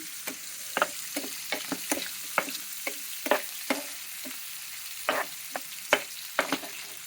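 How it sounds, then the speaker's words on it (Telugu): Onions frying in a pan, a low sizzle broken by frequent sharp crackles and pops spread irregularly through the stretch, close up and without any voice. "బాగా వేగాలి. ఇది ఉల్లిపాయలు పచ్చి వాసన పోవాలి."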